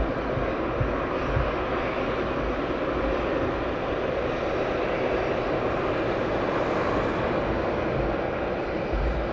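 An Aerologic cargo aircraft taxis for departure at East Midlands Airport, its engines producing a steady, broad roar that holds constant throughout without pause.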